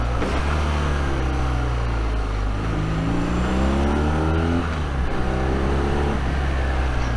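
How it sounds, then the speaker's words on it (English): A 2021 BMW R nineT motorcycle engine pulls hard and loud, rising in pitch through revs, dropping sharply at each upshift and climbing again, with downshift blips, under steady wind rush. "Just the upshifts and the downshifts on a nice analog bike."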